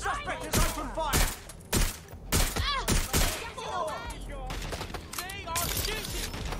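Gunfire in the video game Watch Dogs Legion comes as repeated sharp bursts and shots amid a busy combat mix with whistling, ricochet-like effects, close and loud.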